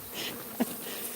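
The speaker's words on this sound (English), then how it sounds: "So killer bees swarming and getting mean about it." Killer bees swarm around a yucca plant, their faint buzzing drone running low and continuous, with one brief louder buzz from a bee passing close.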